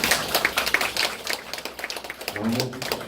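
Audience clapping at a certificate ceremony for a temple food course at a Buddhist temple museum school, heard as scattered, moderately close hand claps across a few seconds, with a brief low voice near the end.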